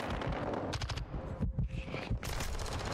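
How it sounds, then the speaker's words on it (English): Rapid bursts of LMG machine gun fire in Modern Warfare 2, loud and close with dense, sustained volleys broken by short pauses. "How many bullets are you going to fire with your LMG?"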